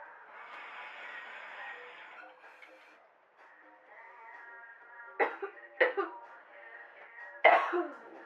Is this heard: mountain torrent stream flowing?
no